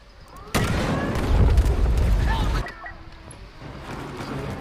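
A heavy boom from an explosion in Star Wars Battlefront 2, a sudden loud blast with rumbling debris lasting about two seconds before fading into quieter game sound.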